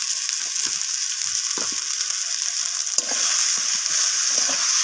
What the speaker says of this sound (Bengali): এরপর মশলাটাকে আমি সব কিছুর সাথে এইভাবে নাড়াচাড়া করে কষাতে থাকব